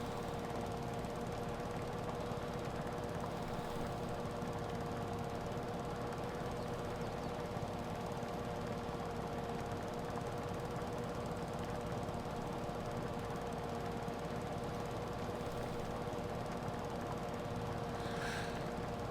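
A lawn mower engine in Farming Simulator runs at a steady drone for the whole stretch, with no breaks and no talking over it.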